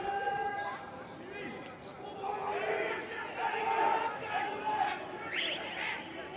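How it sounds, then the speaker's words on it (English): A football crowd at a The New Saints versus Pen-y-bont league match gets excited, a broad murmur of voices and scattered shouts that rises and swells before easing off. "The TNS crowd getting excited"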